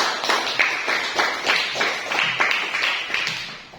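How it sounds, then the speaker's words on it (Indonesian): Applause from a classroom of students at the end of a lesson: a steady patter of many hands clapping in rhythmic bursts, fairly close and filling the room, with no talk over it. "Aplaus untuk kita semuanya."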